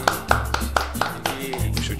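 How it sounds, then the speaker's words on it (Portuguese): About eight crisp, evenly spaced hand claps, close and fairly loud, come from a small group welcoming a guest on a live radio show, with a voice speaking faintly underneath. "Uma salva de palmas"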